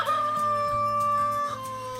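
A voice imitates a chicken with a drawn-out clucking, crowing call, sustained and nasal, over faint background accompaniment.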